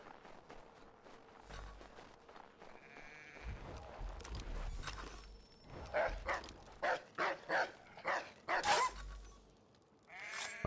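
In the video game Assassin's Creed 3, a dog barks in a quick run of sharp, evenly spaced yaps, with earlier faint animal calls and ambient game sounds, no talking.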